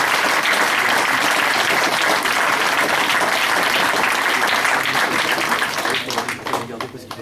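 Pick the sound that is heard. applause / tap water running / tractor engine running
applause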